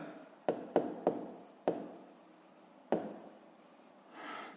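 Hand writing on a board or paper during a fifth-grade math lesson: a few sharp taps and short scratching strokes of the pen or chalk, close and quiet, with a soft rustle at the end.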